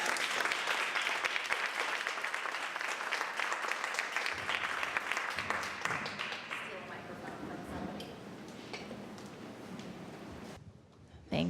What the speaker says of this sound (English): Please give Isa a big round of applause.